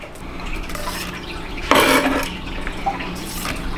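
Rangoon filling with powdered sugar, minced garlic and green onions is mixed in a bowl, producing clinks and scrapes of a utensil against the dish, with one louder clatter midway.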